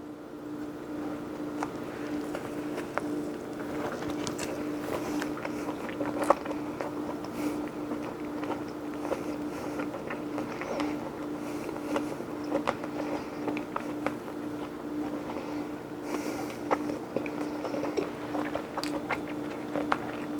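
Close, soft biting and chewing on a chicken sausage sandwich in a soft egg-washed roll continues steadily for about twenty seconds over a constant low hum, with small clicks and mouth noises and no talk.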